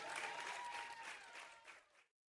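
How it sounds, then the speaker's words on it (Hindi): Loud, dense applause from village youth at a rural poetry gathering rolls on for about two seconds, then cuts off abruptly into silence. "गांव के युवा वर्ग जोरदार तालियां बजाता है।"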